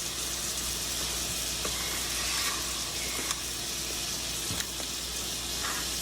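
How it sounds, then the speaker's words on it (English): Steak searing in a pan over medium heat, a steady broadband sizzle holding evenly throughout with a few faint clicks and utensil taps rising briefly above it. "we're gonna let that sear on a medium heat"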